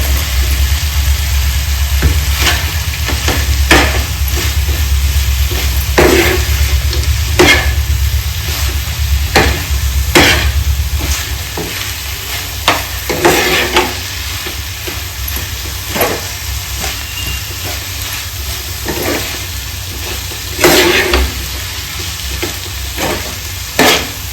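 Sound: stirring fried soya chunks into the chilli sauce in a pan

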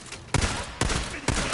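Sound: gunfire in the video game Days Gone

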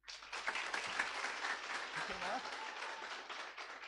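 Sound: applause, audience clapping

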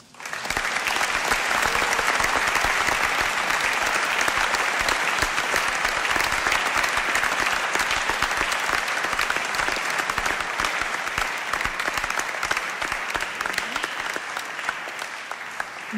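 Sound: audience applause for Jorien de Zwitser

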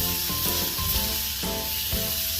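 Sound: stir-frying pork belly, rendering the fat

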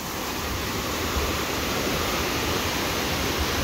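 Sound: river in flood, rushing water

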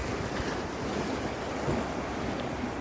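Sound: waves on the shore at Laem Charoen beach

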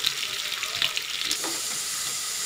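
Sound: potatoes frying in oil

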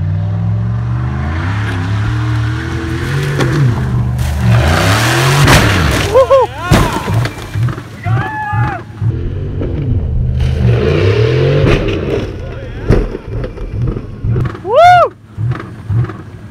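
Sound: Dodge Durango engine revving with accelerator held down

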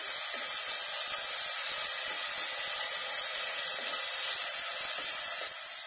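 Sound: chopped onion with ginger garlic paste frying in oil

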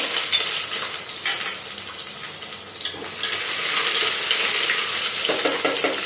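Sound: ginger and garlic frying with cumin in pan

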